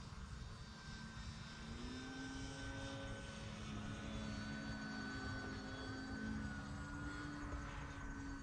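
A small E-Flite radio-controlled electric model plane flies overhead, its propeller motor giving a steady, moderately distant buzzing whine that rises and falls gently in pitch as it passes.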